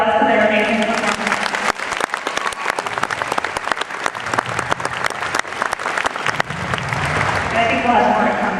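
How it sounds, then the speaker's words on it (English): Audience applause after a choir performance at a 2014 graduation convocation, a loud, dense clapping crowd that fills the hall, with a speaking voice running over parts of it. "So I was hoping we could give another round of applause for their amazing performance."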